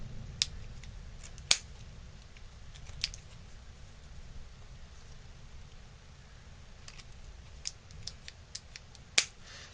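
Scissors snip off excess fabric on a twisted and rolled fabric flower, a handful of sharp isolated clicks and snips spread across a quiet background with a low hum underneath.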